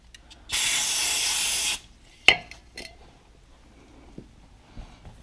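Brake cleaner from an aerosol can sprayed in one loud, steady hiss lasting about a second, followed by a sharp clink and a few faint knocks while working on brake bleeders of a Can-Am Spyder RT.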